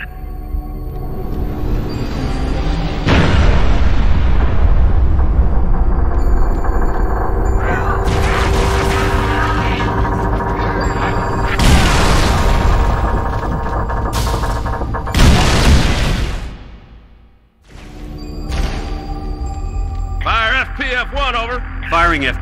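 Heavy artillery explosions in Halo: Reach land as several loud, deep booming blasts with long rumbling tails, spread across a steady bed of battlefield noise, with radio voices talking in between.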